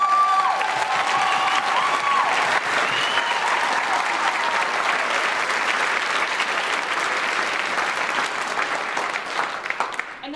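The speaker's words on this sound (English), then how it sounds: "I feel like they deserve that applause," An audience at a school choir concert for grades 8–12 gives sustained, dense applause that stays loud and even before tapering off at the very end, with faint voices mixed in.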